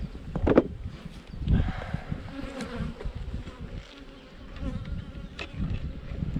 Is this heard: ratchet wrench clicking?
no